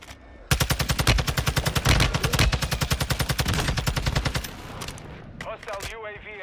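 Call of Duty MW2 automatic gunfire, a fast sustained burst of rapid, evenly spaced shots lasting about four seconds, loud and close, followed by scattered game sounds and a voice speaking.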